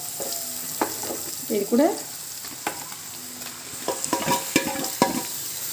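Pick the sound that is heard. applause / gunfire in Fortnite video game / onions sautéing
onions sautéing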